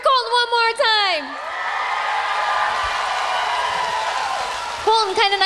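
Audience at a 2009 Hard Rock talent show cheering and whooping loudly for singer Colton after his song with a live band, a sustained roar of crowd noise between stretches of someone talking at the start and end.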